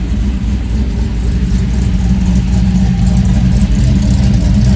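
Car with a swapped LS3 V8 engine revving and idling with a hunting idle, a loud continuous deep rumble that rises slightly in the second half, close to the exhaust.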